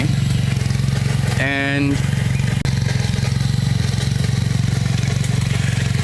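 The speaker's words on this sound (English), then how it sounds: "that's the cultivator working" A cultivator engine runs at a steady, even idle close by, with a continuous low mechanical drone and a brief higher-pitched burst near the start.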